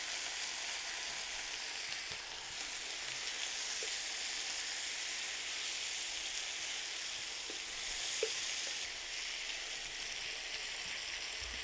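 Garlic, onion and thickly cut tomatoes, about half a kilo, sizzle steadily in a pan, a loud continuous frying hiss with a few faint clicks from stirring and no talking.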